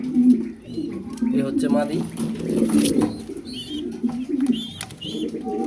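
Grizzle pigeons coo in low, throaty murmurs close by while a person talks over them.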